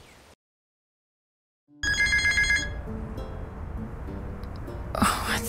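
A phone rings in the video game Nora Roberts: Vision in White. After a moment of silence, a bright, repeating electronic ringtone starts abruptly, steady and fairly close, over soft game background sound.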